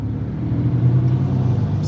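A deep, steady engine rumble drones loudly throughout, a high-performance Scat Pack muscle car idling with a throaty low growl.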